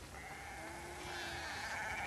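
Several sheep bleat in The Last of Us Part 2, with steady, overlapping calls over low ambient noise. The bleats grow slightly fuller in the second half.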